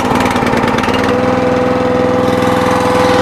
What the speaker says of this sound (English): I'm going to fire it up and just kind of try it.